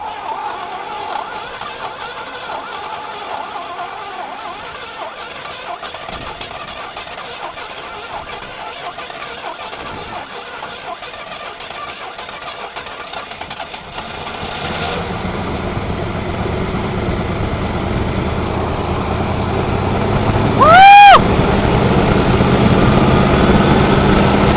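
A 1980 Pontiac Firebird, left sitting for 17 years, cranks and catches, then settles into a steady rough idle that swells louder, with a brief voice partway through.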